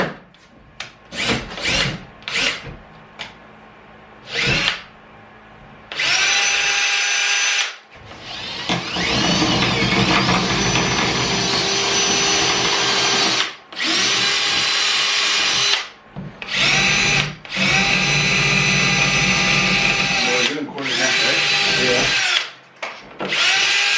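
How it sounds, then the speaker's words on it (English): A power drill boring holes into the trunk lid of a BMW E36 for a wing install, whining in repeated bursts of varying length, some short and choppy, others long sustained runs with pauses between. "So we're going to drill now"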